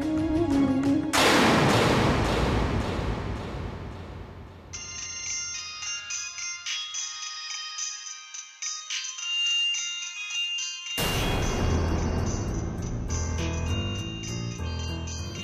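An incoming call's phone ringtone plays as a loud melodic electronic tune, dropping to a sparser high bell-like passage midway before the full tune returns, with no voices.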